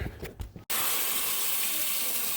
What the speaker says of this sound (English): But let me run the water.